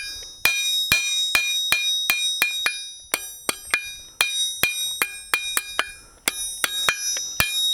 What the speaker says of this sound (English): Then I will switch to my lighter hammer and I start to do the scroll.